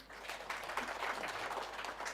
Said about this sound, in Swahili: Jipigieni makofi.